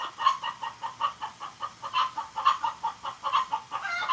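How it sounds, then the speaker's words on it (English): Chickens clucking in a coop, a steady run of short, rhythmic clucks repeating close by and fairly loud, with no talking. "Are there 2 chickens in there?"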